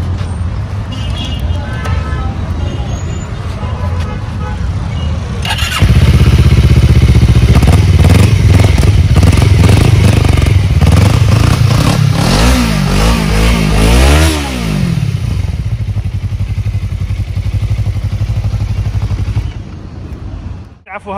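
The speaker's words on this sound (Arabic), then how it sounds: "جي اس ار جي اس ار شغال طبعا" Suzuki GSX-R sport motorcycle engine starting and revving at a Baghdad motorcycle shop: a loud, close engine roar that swells into sustained revving with rising and falling pitch sweeps, then settles back to idle, amid background traffic and voices.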